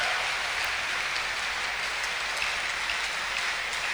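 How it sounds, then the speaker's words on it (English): A church congregation gives a sustained clap offering, dense continuous applause from many hands at a steady level, heard from slightly back in the room with no voices over it. "Give God a great clap offering."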